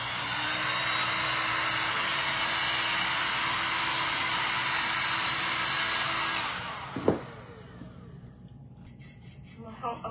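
A hair dryer blows steadily on painted glass, a constant whooshing roar that runs for several seconds before switching off, followed by a brief clunk and quiet room sound.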